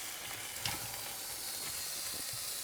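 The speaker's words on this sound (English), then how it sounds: "we're just going to fry this off now to get the aroma out of them" Shrimp shells frying in a pan give a soft, steady sizzle and hiss, fairly faint, with a few light scraping stirs.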